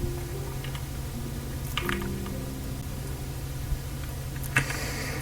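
Computer keyboard keys tapped for a shortcut while working in After Effects, a few soft, close clicks scattered over a quiet background with no talk.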